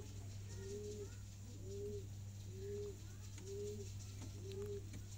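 Sialkoti pigeons coo in a steady repeating rhythm, five soft rolling calls at roughly one-second intervals over a constant low hum, with no speech.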